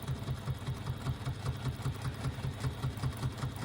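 A sewing machine stitches lines along a strap, its needle punching in a steady fast rhythm of evenly spaced beats over a continuous motor hum, close and moderately loud throughout.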